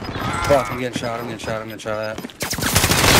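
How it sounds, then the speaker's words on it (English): Rapid video-game gunfire crackles in close bursts, a hard volley near the end, while a player swears and talks over it. "I'm getting shot at."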